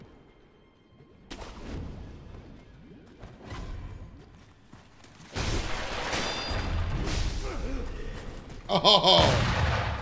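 Enemy guns firing in Sekiro, a run of sharp gunshot bursts and booms that get louder and denser toward the end, with a player's brief exclamations over the action.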